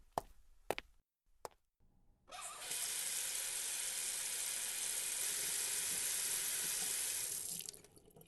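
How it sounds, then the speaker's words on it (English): A bathroom sink tap opens after a few sharp knocks and clunks, then water runs steadily and fairly loudly into the basin for several seconds before being shut off. "I'll wash my face."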